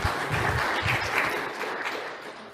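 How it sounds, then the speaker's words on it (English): An audience at the OpenFest conference applauds steadily to welcome a speaker onto the stage, with a dense, even wash of many hands clapping at moderate distance. "let's run a round of applause for him"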